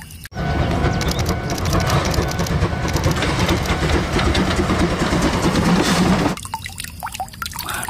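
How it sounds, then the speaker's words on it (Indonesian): A toy train runs steadily for about six seconds with a close, continuous mechanical rattle and whir, stopping abruptly near the end. "Wow, ada kereta api."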